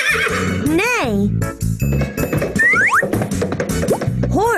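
A voice imitates a horse's neigh in a children's animal-sounds lesson, a wavering whinny-like cry repeated between spoken words, clear and close.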